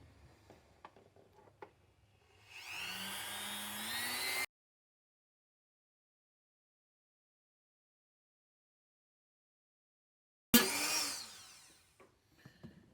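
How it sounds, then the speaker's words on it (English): A Dremel cutoff wheel cuts through thick plastic in two bursts, a high whining grind lasting a couple of seconds, a stretch of silence, then a second shorter cut, with small handling clicks around them. "when you're cutting this thick plastic with the Dremel cutoff wheel"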